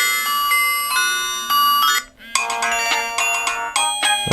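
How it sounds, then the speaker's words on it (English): A Nokia 5310 (2020) ringtone plays a bright, loud electronic melody of repeated tonal notes, with a short pause before the tune resumes. "Have a play around with all of the different ringtones."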